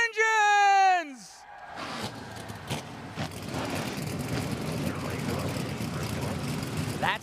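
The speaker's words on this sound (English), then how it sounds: "The NASCAR Craftsman Truck Series field is fired up." NASCAR Craftsman Truck Series race trucks fire up together and settle into a dense, steady rumble of idling engines, with a brief loud tone at the very start before the engine noise.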